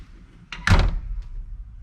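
A car door on a Ford Model A street rod swings shut in a garage with one solid, near thunk, followed a moment later by a fainter latch click over quiet room tone.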